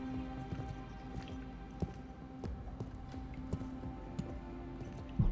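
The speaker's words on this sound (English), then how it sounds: "I like the, footstep sound effect." Footsteps scuff steadily along railway tracks in Deus Ex: Mankind Divided, soft, close and regular, with faint clicks and a low ambient hum underneath.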